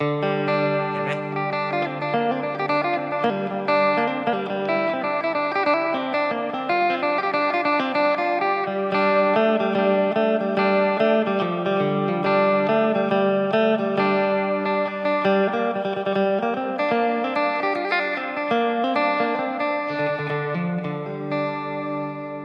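A thin, bright electric phin tone with its pickup coil split plays a continuous melodic line with light effects and reverb, steady and fairly loud throughout, with no voices.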